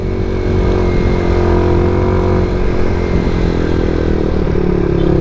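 A scooter engine drones loud and steady as it labours up a steep road near Baliti Baywalk, with faint clatter and no talk over it.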